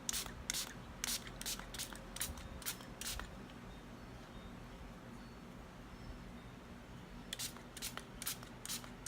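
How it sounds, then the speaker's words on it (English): Quick bursts of a spray bottle misting melt-and-pour soap, several rapid pumps in a cluster, a pause, then another short run of sprays, close by over faint background hum. "I'm going to spray them."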